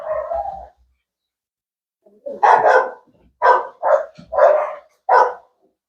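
Dogs at a kennel bark in a run of about five loud, close barks spaced unevenly over a few seconds, after a short whining cry at the start and a pause.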